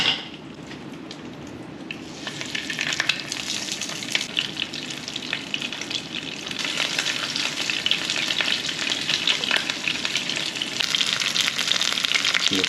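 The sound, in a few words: frying panko-breaded fish in a pan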